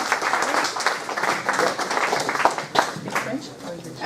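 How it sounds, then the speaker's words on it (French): Seminar audience on house churches clapping for a man called the king, a busy ragged patter of hands under and around talking voices, rising and thinning in waves. "Est-ce qu'on peut applaudir le roi?"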